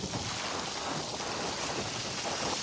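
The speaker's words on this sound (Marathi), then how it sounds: "पाणी बघा काय तुफान वेगाने चाललेलं आहे पाणी" Floodwater rushing fast during monsoon flooding, a loud, dense, continuous roar filling the whole clip without pause.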